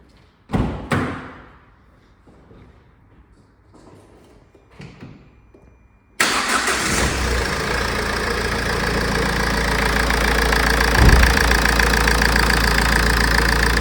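A few thumps and clatters, then a Ford Connect van engine cranks and catches abruptly, settling into a loud, steady idle that rumbles on continuously.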